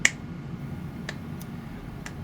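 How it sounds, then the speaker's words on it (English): A few slow, spaced claps ring out during a tabletop role-playing session, four sharp, faint-to-moderate hand claps about half a second apart over a quiet background. "you guys hear clapping behind her from the other direction"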